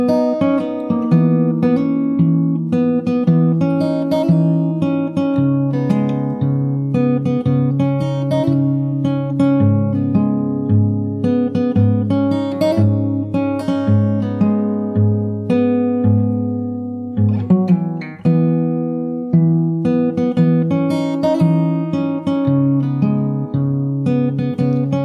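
Bass guitar plays the chorus, a sustained melodic line of full, warm notes running continuously and loud, alone with no talking.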